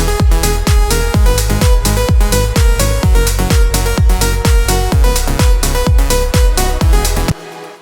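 A loud progressive house drop pounds with a steady four-on-the-floor kick, pitch-bending bass hits and bright synth layers, stopping abruptly at the end.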